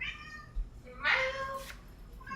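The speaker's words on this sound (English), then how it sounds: "Meow." A cat meows once, a short, fairly close call that rises and fades over a quiet room background.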